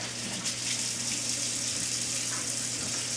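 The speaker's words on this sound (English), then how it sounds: "So I'm going to wash up" Tap water runs steadily into a kitchen sink for washing up after cutting apart a whole chicken, a continuous close hiss and splash with no talking.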